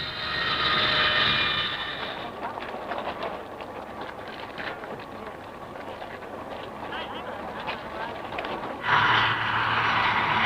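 A Short Skyvan light transport plane at the Farnborough airshow, its engine drone rising and falling at middle distance under a narrator's voice, with louder whining passes at the start and end.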